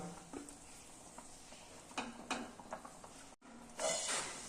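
Tilapia pieces going into a boiling fish curry, giving a low, steady sizzle and bubbling with a few soft stirring scrapes and clinks, a brief dip, then a louder hiss near the end.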